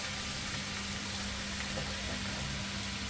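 Bottle gourd sizzles in a hot pan with ginger-chili paste and turmeric, giving a constant dense hiss and crackle at steady volume with a low hum beneath.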